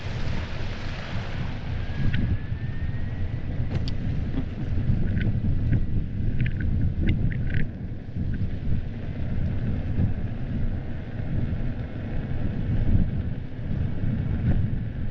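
Steady wind buffets the microphone in a constant low roar on a cold, overcast day, with an electric unicycle motor droning underneath and a few faint clicks.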